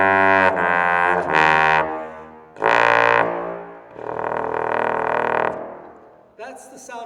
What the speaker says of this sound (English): that's the sound of a tenor trombone playing in the low range.